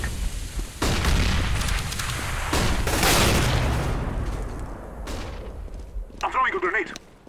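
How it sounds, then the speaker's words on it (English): Flashbang and grenade explosions in Counter-Strike at a professional esports match sound as a series of loud booming blasts with crackling tails, with a player talking over them. "I'm throwing a grenade. Throwing a flashbang."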